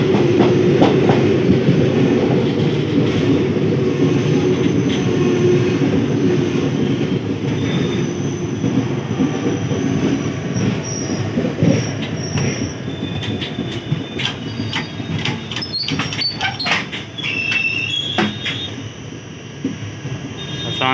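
Bagh Express on the Howrah to Kathgodam line running over the rails, a steady loud rumble of wheels and carriages with rhythmic clatter and occasional high wheel squeals toward the end.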